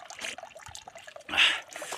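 Water from a mountain spring trickles and splashes steadily in cold open air, with a louder gush of flow partway through and some faint background sound.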